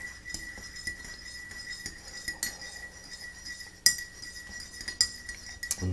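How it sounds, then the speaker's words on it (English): A spoon stirs honey into a hot drink of about 8 to 10 ounces, clinking sharply against the glass in irregular taps with quiet pauses between. "I'm going to over stir it"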